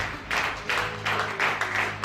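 A church congregation claps in rhythm, several quick even bursts of applause in a row, loud and fairly close, with no talking over them.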